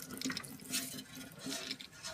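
Water runs from a tap to fill a bath for a pet hedgehog, a soft continuous splashing stream at low volume with no voices.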